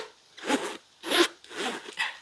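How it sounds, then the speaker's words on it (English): A handbag zipper is pulled open and closed four times in quick succession, each a short smooth rasping zip, close and clear with no talking. "The zippers are buttery smooth as well."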